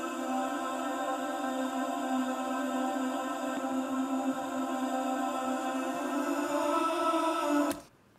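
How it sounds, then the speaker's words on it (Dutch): A sustained synth pad track swells with lush reverb from a Valhalla Vintage Room plugin, a steady, shimmering drone that holds evenly before cutting off abruptly near the end, leaving only a faint tail. "Nu doe ik nog een beetje verb erbij."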